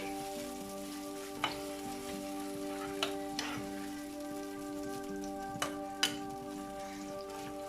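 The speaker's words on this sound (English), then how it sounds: "So now I add the tomato paste in." Soft, continuous sizzle as tomato paste hits frying corned beef in a pan for a Bahamian breakfast, with occasional sharp utensil clicks and taps over the steady crackle.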